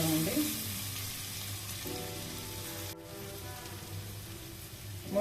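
Ginger garlic paste frying in a pan for jeera rice, a steady close sizzle with soft crackling and an occasional stir, no voices.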